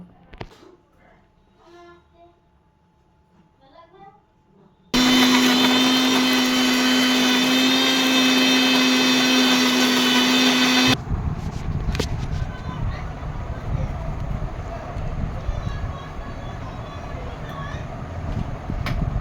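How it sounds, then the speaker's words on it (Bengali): An electric mixer grinder blends green chillies, ginger, cumin and tomato into a paste: quiet at first, then a loud steady motor whine bursts in, shifting to a rougher, churning roar as the paste breaks down. "মিক্সিতে এবার পেস্ট করে নেব"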